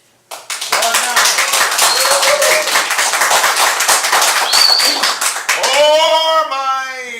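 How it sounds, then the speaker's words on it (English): A theater audience at a Spontaneous Broadway improv show bursts into loud, close applause after a quiet start, with cheers and whoops rising over the clapping near the end. "And so by your applause, folks,"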